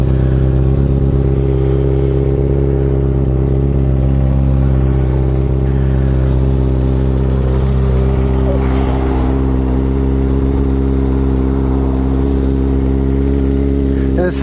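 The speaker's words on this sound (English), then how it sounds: "Let it warm up before I start revving it up." A Kawasaki ZX6R sport motorcycle idles close by while it warms up, a loud, steady, even engine drone that holds for the whole stretch with no clear revs.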